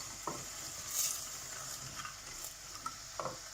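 Broad bean curry is stirred in a pan under a quiet, steady sizzle, with a few soft scrapes and knocks of the spoon spaced through it.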